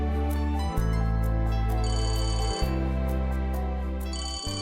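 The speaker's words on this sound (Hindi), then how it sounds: "आई थिंक आपका फोन बज रहा" A phone rings with a repeating melodic electronic ringtone, loud and steady across the whole span with brief pauses between phrases and no talk.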